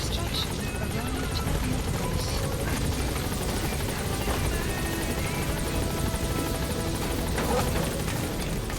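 An extraction helicopter in Metal Gear Solid V drones with a dense, continuous rotor roar that stays loud and steady throughout.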